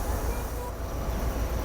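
The Shah Latif Express passenger train sits stopped at a small railway station, giving a constant low rumble and broadband noise, close and steady, with faint voices in the background.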